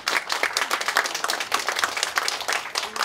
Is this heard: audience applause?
yes